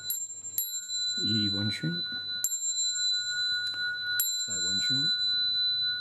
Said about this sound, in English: I'm going to ring the bell 3 times, make 3 half bows